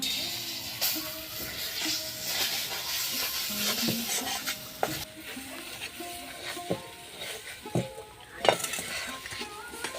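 A spoon stirs and scrapes a ground moong dal paste in a hot pan to dry it out, with soft sizzling and occasional metallic clinks against the pan throughout, no voices.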